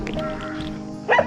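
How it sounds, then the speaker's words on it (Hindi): A Himalayan shepherd dog at a mountain sheep and goat camp lets out a short, sharp bark or two near the end, following a brief stretch of lower background sound. "ये हैं हिमालयन शेपर्ड के वफादार कुत्ते।"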